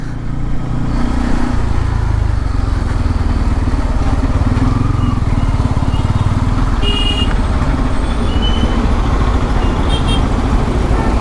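A Bajaj Pulsar N250 motorcycle engine drones steadily while riding, with a loud, continuous low rumble and wind rush heard close up throughout, without speech.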